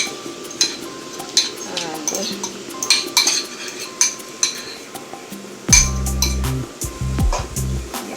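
Salmon pieces are stirred with a metal utensil into a mixture in a bowl for a salmon and sweet potato shepherd's pie, giving repeated clinks and scrapes against the bowl, up close and with no talk.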